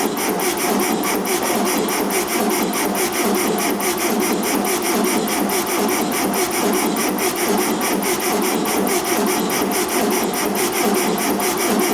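A rat-look 1974 VW Beetle engine runs steadily and loudly close by, a constant rhythmic idle with even pulsing that holds without pause or change for about twelve seconds.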